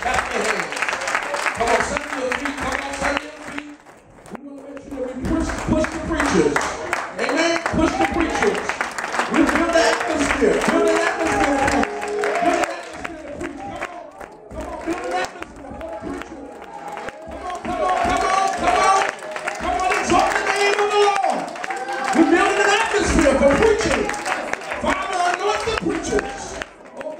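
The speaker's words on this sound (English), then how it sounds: "Everybody clap your hands." Church congregation at a preaching event clapping and applauding together, a dense steady wash of hand claps and crowd noise lasting throughout, mixed with shouting voices and music.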